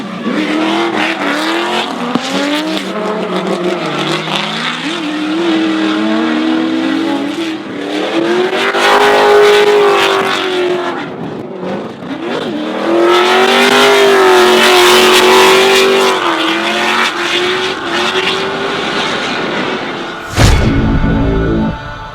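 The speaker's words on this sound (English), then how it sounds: "it was the 7-litre V8 opening a small gap on the 2JZ Turbo" Loud drift car engines, a 7-litre V8 and a 2JZ turbo, revving hard and wailing through rising and falling pitches at a drifting championship, with bursts of acceleration and a sharp tire screech near the end.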